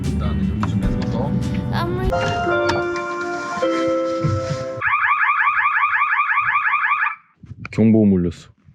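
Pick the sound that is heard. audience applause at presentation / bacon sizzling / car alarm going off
car alarm going off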